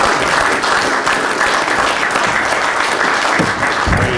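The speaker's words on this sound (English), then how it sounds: "I think we ought to give a round of applause to these guys." A loud, sustained round of applause from a small group at a scouting event, a thick even patter of clapping hands from start to finish with a few louder claps near the end.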